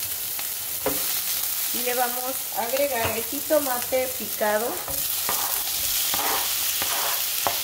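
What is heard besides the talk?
onion and green chilies frying in a pan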